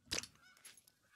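Geese in theHunter: Call of the Wild letting out a single loud, brief honk followed by a few fainter calls in a quiet open setting.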